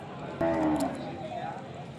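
An Ongole calf gives one short, low moo partway through, close by, against a faint outdoor background at a Sunday cattle market in Kodad.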